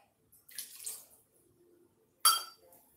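Tap water splashes into a heavy cream container being rinsed out in a home kitchen, two short bursts of splashing and sloshing close up, separated by a quiet pause.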